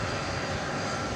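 American Airlines Boeing 737-800 taking off at DFW Airport at night, its engines a steady, broad roar that holds loud and even throughout, with no voices.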